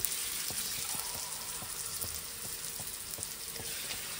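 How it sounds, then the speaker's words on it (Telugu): Green peas frying in a pan for upma pesarattu, a steady hiss of sizzling oil with soft, regular ticks and pops, close and alone. "బఠానీ కొంచెం బాగా వేగేదాకా మూత పెట్టుకోవాలి."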